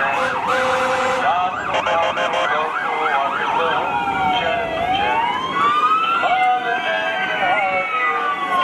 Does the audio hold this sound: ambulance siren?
yes